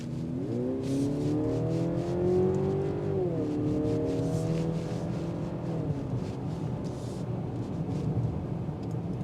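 A 2025 Mercedes-Benz GLC 350 e 4MATIC plug-in hybrid drives through heavy traffic. Its steady engine hum rises and falls in pitch through several gear changes, sounding close and continuous with no talking.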